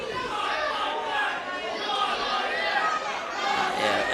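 A wrestling crowd in Worcester murmurs in disbelief, a dense low chatter from many voices that keeps a fairly steady level. A commentator talks over it.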